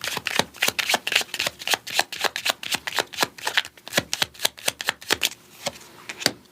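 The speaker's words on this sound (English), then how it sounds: "Let's do a divine doorway oracle card." Divine doorway oracle cards are shuffled close up in a quiet setting: a rapid series of crisp riffling flicks and soft slaps, repeating in bursts with a steady rhythm and no talking.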